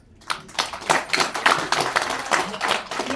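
Audience at a Tamil-Kannada community gathering with homam and aarti rituals applauding, brisk uneven hand clapping that starts abruptly and keeps going with bursts of louder claps, fairly close.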